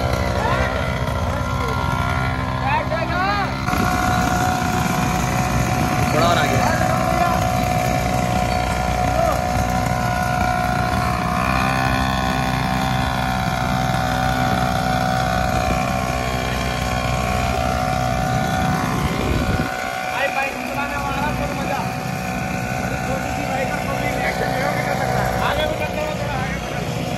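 A small engine on an RC 200 pocket bike runs steadily throughout a test ride, a loud, buzzy drone with slight rises and dips in revs, and someone talks over it.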